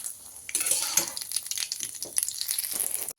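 Tomato paste sizzling and frying in a pan over black cumin seeds, a hissy crackle with occasional stirring scrapes, close and continuous for a few seconds.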